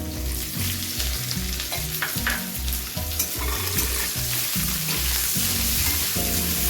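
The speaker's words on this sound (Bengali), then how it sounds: "পেঁয়াজটা যখন হালকা ভেজে নেওয়া হয়ে যাবে" Chopped onions frying in oil with whole garlic cloves for a mutton fry, a steady close sizzle broken by repeated scraping and stirring strokes of a spatula against the pan, with no talk.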